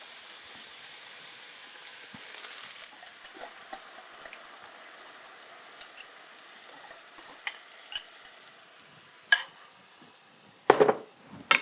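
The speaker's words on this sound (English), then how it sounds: "we're going to turn our heat down just a tad, and we're going to dump that sauce on" Beef bulgogi sauce poured into a hot pan over slightly lowered heat builds from a soft hiss into crackling sizzle, with scattered spoon-and-pan clinks and a louder burst near the end.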